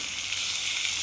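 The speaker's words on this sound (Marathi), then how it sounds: "आता आपला कांदा लाल झाला आहे, त्यामध्ये आता आपण 1 बारीक चिरलेला टोमॅटो घालूया।" Finely chopped tomato drops into onions frying in a pan for dal tadka, giving a steady bright sizzle close up, with no voices.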